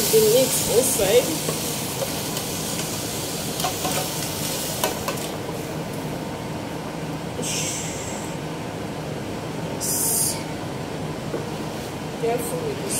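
Steady sizzling from a pot as egusi soup is stirred, with occasional scraping strokes and a voice talking over it.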